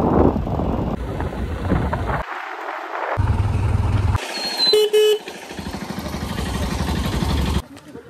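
An auto rickshaw ride through traffic on the way to Bakkhali, with engine drone, wind buffeting the microphone and short horn toots from nearby vehicles, broken by abrupt cuts between moments.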